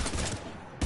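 Bursts of heavy gunfire in a Mass Effect 3 firefight against husks, a dense, fast rattle of shots filling the short moment, then a louder thump at the very end.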